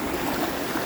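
A small local river flowing nearby, giving a steady broadband rush of moving water with no breaks.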